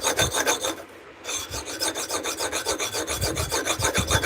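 A coarse file rasps across the edge of an axe in quick, even back-and-forth strokes. The sound is close and loud, with one brief pause near the start.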